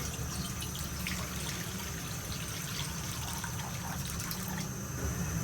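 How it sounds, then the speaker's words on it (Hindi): Water pours steadily into an iron karahi on a lit flame, a continuous close splashing rush with no pauses, about a litre going in. "और इसमें ये पानी शामिल करेंगे।"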